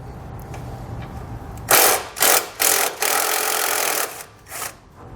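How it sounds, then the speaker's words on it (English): A 10mm socket removing a bolt on a 2015 GMC Sierra 1500 during trailer wiring work: several short bursts of ratcheting, close and fairly loud, with brief pauses between them. "Then we can remove this bolt using a 10mm socket."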